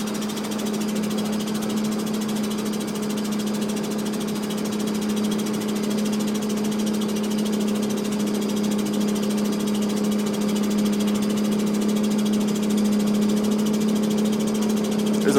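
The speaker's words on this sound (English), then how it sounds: "Oh, there's a bus coming up." An Ice Explorer bus engine at the Columbia Icefield in Alberta, near Athabasca Glacier, gives a steady, loud diesel drone with a low hum that holds even and continuous throughout.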